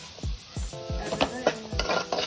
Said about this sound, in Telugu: వేగనివ్వాలి.